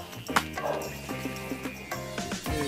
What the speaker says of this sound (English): Stop barking, dogs.